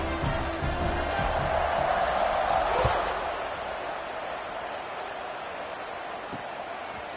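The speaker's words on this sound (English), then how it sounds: "this crowd is buzzing after that last score" A crowd in an American football stadium buzzes steadily, swelling to a louder roar in the first few seconds and then settling to a lower, continuous din with a few faint thuds.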